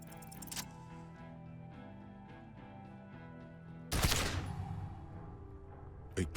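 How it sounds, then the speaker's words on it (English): A gunshot from the video game Disco Elysium cracks out as one loud sharp blast with a short decay over a low droning music bed, preceded by a brief metallic click and followed by another short hit. "A plume of smoke and fire erupts from the gun, and your hand goes numb from the explosion."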